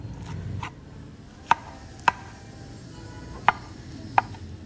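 A knife chops cooked, soft, peeled brinjal on a board in four sharp, separate taps spaced about half a second to a second apart, quiet kitchen room tone between.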